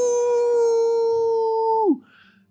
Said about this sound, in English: Then that's when you hear a howl.